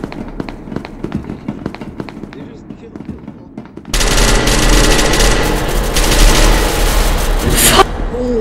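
Rapid gunfire crackles in the video game SCP: Secret Laboratory, with scattered shots at first and then a dense, loud automatic barrage, while players talk over it.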